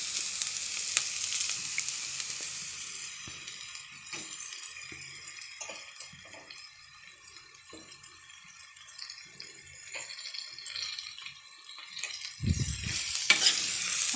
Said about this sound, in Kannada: ಅದೊಂದೆರಡು ನಿಮಿಷ ಫ್ರೈ ಮಾಡಿಬಿಟ್ಟು